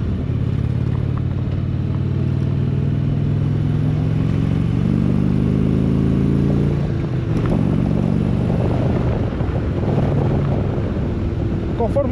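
A motorcycle climbs a mountain road near Flagstaff and the Grand Canyon in Arizona, its engine a loud continuous drone with rising tones under heavy wind buffeting on the microphone throughout.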